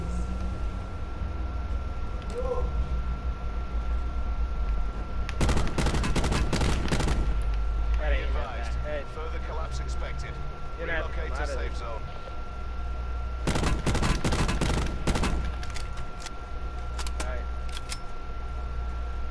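Gunfire from a gun in the video game Blackout, with two loud bursts of rapid shots separated by quieter game ambience, and a voice talking faintly in between.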